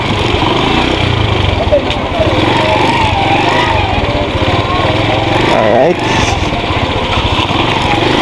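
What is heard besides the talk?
motorcycle engine running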